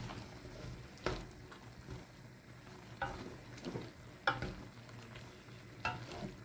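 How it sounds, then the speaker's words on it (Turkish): A spoon scrapes and stirs chicken with fresh dill and a little parsley in a pan for a Taiwanese-style milky chicken sauté, giving several distinct scraping strokes at an uneven pace over a steady low sizzle, with no talking. "Şöyle bir karıştıralım."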